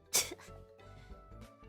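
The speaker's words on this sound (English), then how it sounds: "I tried to mute the sneeze" A single sharp human sneeze bursts out near the start, loud and close, followed by quieter breathy throat sounds and faint background noise.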